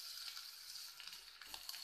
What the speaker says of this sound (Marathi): आता मी थालीपीठला परतून घेते.